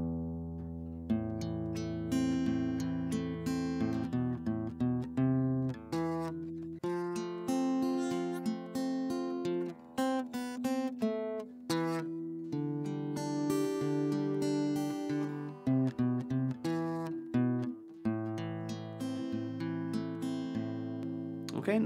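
Acoustic guitar playing the introduction to a folk song, with a steady run of picked notes and chords for about twenty seconds, alone and with no talking.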